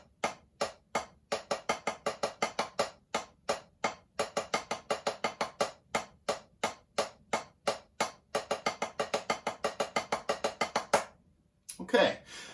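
Crisp drum strokes on a snare or practice pad, single taps speeding into bursts of rapid doubles in an even rhythm, then a brief voice at the end.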